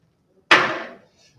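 A single sharp wooden crack of an auctioneer's gavel coming down at a live stamp auction, loud and close, with a short ringing decay in a quiet room.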